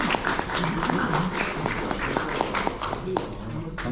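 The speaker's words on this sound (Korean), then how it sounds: "박수로 맞이해 주시기 바랍니다." Audience applause at a Korean lecture on the cultural anthropology of India greets the lecturer: dense, steady clapping from a crowd in a hall, with a few louder claps standing out and no one speaking.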